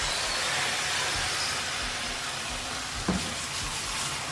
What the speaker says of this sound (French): Et je viens verser mon omelette.